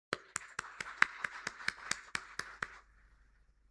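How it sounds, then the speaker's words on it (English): A few hands clapping at a seminar on national security and economic resilience in Kolkata, about a dozen sharp, evenly spaced claps that stop abruptly, fairly faint and close. "let's have a huge round of applause for the participants"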